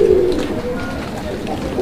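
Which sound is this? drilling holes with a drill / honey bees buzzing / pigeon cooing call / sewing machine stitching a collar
pigeon cooing call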